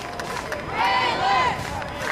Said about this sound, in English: You can hear the cheer squad.